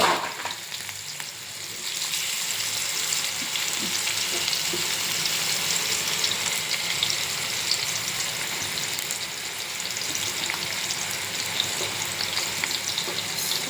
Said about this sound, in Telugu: ఆయిల్ కాగిపోయాయి. ఇప్పుడు నేను దీంట్లో వేసుకున్నాను. 4 పీసెస్ వేసుకున్నాను.